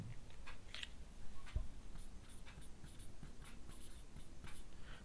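Handwriting on a board during a biology lesson, with faint steady scratching strokes and light taps across the span and no talk over it.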